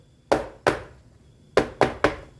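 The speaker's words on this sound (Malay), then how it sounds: "kita hentak ini supaya dia rata" A steaming tray of cassava layer cake being tapped firmly to level it, five sharp knocks: two, then a pause, then three in quick succession, close and clear.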